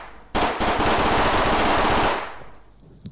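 A gun fires in a VR video game as one continuous rapid burst of loud automatic shots lasting about two seconds, then cuts off, leaving faint clicks and handling noises.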